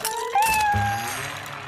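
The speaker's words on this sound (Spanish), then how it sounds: "Los patines no son para los gatitos, Gilbert." A cartoon kitten gives a single clear meow, rising then sliding down in pitch, close and bright, followed by a low tone beneath it in a short animated scene.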